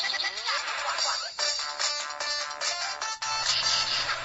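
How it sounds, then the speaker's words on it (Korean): A smartphone rings with an incoming video call: a bright, repeating electronic melody plays in short phrases, steady and fairly loud, with a faint low hum joining near the end and no speech. "주유의 스마트폰으로 한 통의 영상 전화가 걸려온다."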